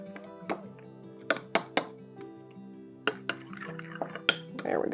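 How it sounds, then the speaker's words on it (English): A spoon stirs cold water in a dish while making a sweet potato souffle, giving a handful of sharp, bright clinks against the dish at uneven intervals over a steady background hum. "I'm just going to mix it up just a little bit and let it sit"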